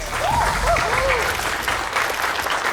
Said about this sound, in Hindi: एक बार जोरदार तालियां हो जाएगा।